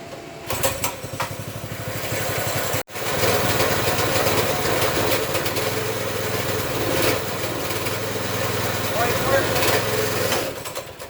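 A Baja Warrior 200cc minibike engine runs loud and steady, dips out for a moment near the start, then picks back up with throttle fluctuations as it keeps revving. No one speaks.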